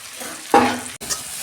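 A thick spice paste of chilli powder, turmeric, coriander and cumin stirred in hot oil for a dried fish curry, sizzling with a sudden burst and a scrape of the spoon, then a steady, close frying hiss.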